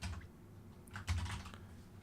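Fast typing on a computer keyboard clatters as quiet, close key clicks in an irregular patter, with no talking over it.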